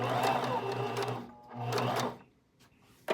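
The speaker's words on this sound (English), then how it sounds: "Put your presser foot back and sew." Sewing machine stitching fabric in two fast mechanical bursts of rapid whirring and clattering, close and loud, then a pause with small clicks and a knock at the end.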